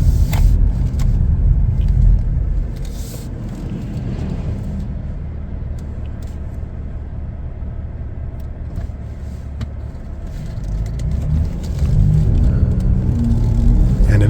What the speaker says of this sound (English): Really great drive. 6-cylinder power, you can feel it.